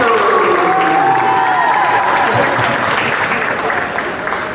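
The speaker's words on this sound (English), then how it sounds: "let's have a big round of applause for the silver medal winning team in the Lily Hooper Division, the Greater Boston" Crowd applauds and cheers at a championship ceremony for the silver medal team, the Greater Boston Vipers, steady loud clapping with some whoops, and a voice calling out over it.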